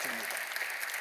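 Applause from a church congregation of deacons gathered for a training service, a dense, steady wash of many hands clapping that fills the whole moment, with a brief voice at the start.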